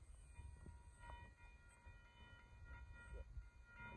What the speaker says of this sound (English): Here comes a northbound freight train.